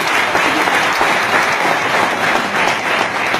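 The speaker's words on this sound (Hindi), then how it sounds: "एक बार जबरदस्त तालियां हो जाए" Dense, steady audience applause filling a seminar hall on direct selling, loud and continuous with no breaks throughout.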